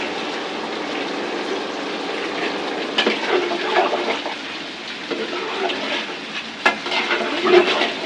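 Broth poured into a pan of frying rupchanda (pomfret) fish sets off a steady, loud sizzle with bubbling and splashing bursts throughout, and no one speaks.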